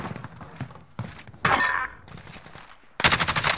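Game gunfire from a shooter perched in a stadium, heard as a few separated bursts of shots with short gaps and a loud, dense volley at the end, fairly close and standing clear of any talk.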